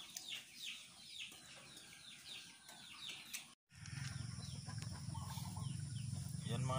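Free-range native heritage chickens in a small backyard coop cluck and call in repeated bursts, nearby and moderately loud, followed by a steady, louder ambient rumble.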